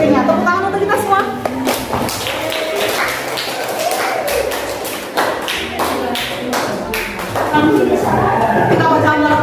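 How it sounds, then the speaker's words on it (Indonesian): A classroom of students clapping together, a burst of sharp, rapid hand claps close by with voices mixed in throughout. "tepuk tangan untuk kita semua"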